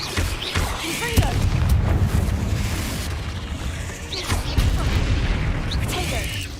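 Muffled booms of a Confringo blasting spell rumble through a Harry Potter video game, repeated bursts over a dense low roar of game noise with faint voices underneath.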